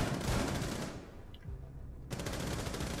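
Rapid burst of gunfire in Rainbow Six Siege, loud crackling volley for about a second, a brief lull, then another dense burst near the end, with no talk.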